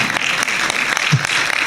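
A church congregation at a Christmas Eve service applauds in a dense, loud, continuous burst of many hands, with no speech over it.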